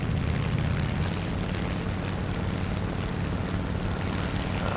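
A German propeller plane in the video game War Thunder drones with a dense, continuous engine roar, steady and loud for the whole stretch, with no talking over it.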